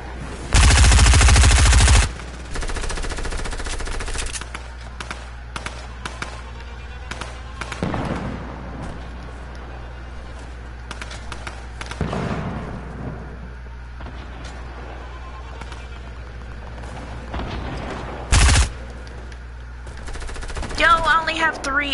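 Gun in the video game Fortnite firing in several loud bursts and scattered single shots, close and harsh, spread across the clip amid game noise.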